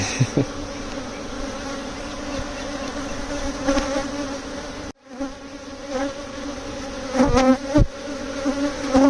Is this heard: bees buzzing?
yes